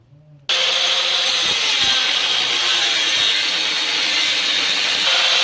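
A power cutting tool trims back the body lip inside the wheel area of a 2017 Nissan Maxima to give clearance for air bag suspension. After a short pause, a loud, harsh, continuous grinding rasp starts and runs close and steady to the end, with no voices.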